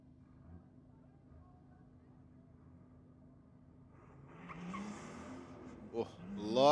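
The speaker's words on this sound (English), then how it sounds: "Our next pair going through their burnout procedure." Drag racing cars at a diesel drag racing event at Sydney Dragway spin their wheels in a burnout, the engine roar and tyre noise building from a quiet start to a loud, rising howl near the end.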